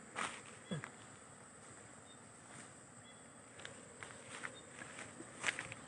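Bees buzzing around a wooden hive box during a professional Thai bee-catching session, a faint, steady insect hum with a few brief louder passes close by, with light handling noises and no talk.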